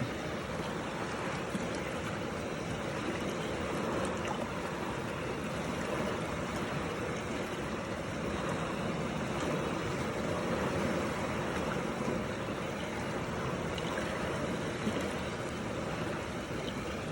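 A gold pan is shaken in a California stream while gold prospecting. Dense, continuous rushing water and sloshing fill the whole clip at a steady level, with no voices.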